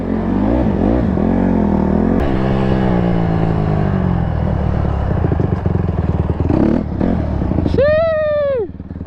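A Yamaha YZ250 two-stroke dirt bike engine idles and revs loudly up close, its pitch rising and falling through several throttle blips with clattering, ending in a sharp high rev that cuts off; voices are faintly present.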